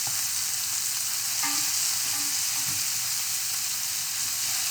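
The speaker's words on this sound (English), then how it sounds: "so I'm gonna let it sear for a little bit longer" Chicken sears in a pan with pickle brine, giving a steady, even sizzle and hiss throughout with a few faint scraping clinks.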